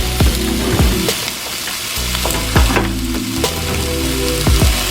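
Cut-up summer sausage frying in a crowded pan over medium-high heat, a loud continuous sizzle broken by sharp spatula clacks and scrapes every second or so, close up and without speech.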